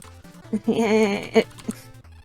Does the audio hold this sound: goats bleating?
yes